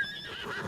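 A short, high, wavering horse whinny in the video game Ghost of Tsushima, clear and fairly close, lasting under a second.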